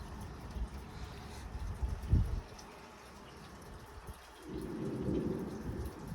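A thunderstorm over Minnesota or Iowa brings low rumbling thunder and steady rain, heard at a distance with a stronger roll near two seconds and a swelling rumble toward the end.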